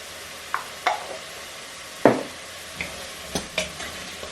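A spoon stirs meat and onion in a pan for Persian ghormeh sabzi stew, giving several separate scraping, clattering strokes over a soft frying sizzle, with one louder knock in the middle and no talking.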